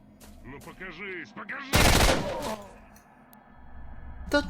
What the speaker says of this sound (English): Getting shot to pieces by a flipping retard.